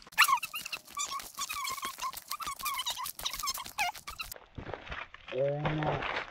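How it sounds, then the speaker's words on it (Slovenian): A dog on a nature walk whimpers and yelps in quick, high repeated bursts up close, then a short growl near the end, with people talking around it. "Pozor, tudi pes, ne bojte se psa"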